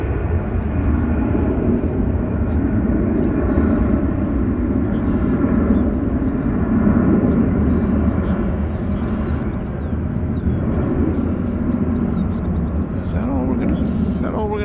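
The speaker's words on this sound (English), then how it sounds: "See that plane?" A passenger airplane taxis at DFW Airport, a steady loud jet engine rumble and whine that holds throughout, with people talking over it.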